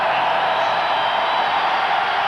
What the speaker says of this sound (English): Now listen to the crowd get into it.